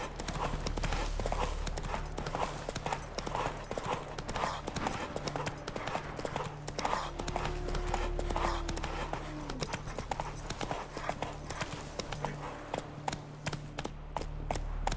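A horse gallops in The Witcher 3 video game, steady rapid clip-clop hoofbeats running the whole time under game music, with faint speech in the background.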